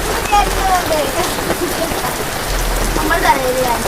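Rain falls steadily and loudly, a dense continuous patter with distant bird-like whistles and faint voices mixed in.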